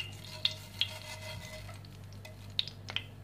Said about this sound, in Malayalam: ഒന്ന് ചൂടായി വന്നപ്പോഴത്തേക്ക് കടുക് ഇക്കറ ഇടുക